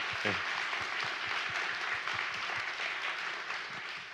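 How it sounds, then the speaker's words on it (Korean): A lecture audience at a science forum applauds the panelists and lecturer, a broad sustained roar of many hands clapping that holds steady and begins to fade at the very end. "오늘 수고해주신 모든 분들께 큰 박수 부탁드립니다"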